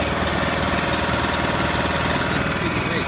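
Small petrol engine on a Chinese-made mulcher running steadily at close range, a loud continuous rough drone with a dense low rhythmic chug throughout and no talk.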